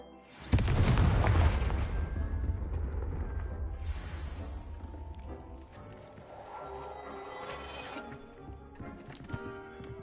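A Confringo blast spell from a Hogwarts video game, erupting in a loud booming explosion with crashing, shattering debris that rumbles and slowly fades over several seconds, followed by scattered settling clatter.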